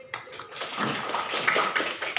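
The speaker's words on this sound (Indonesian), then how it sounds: "kita kasih tepuk tangan untuk Dafa dan Fadli." A classroom of students claps for classmates, a short burst of scattered hand claps that builds into uneven applause for about two seconds.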